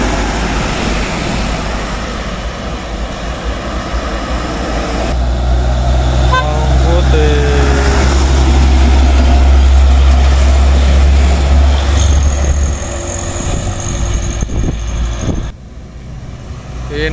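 A Hino truck towing a trailer rumbles past with a deep, heavy engine drone that swells and then fades, while horns toot and voices call out nearby.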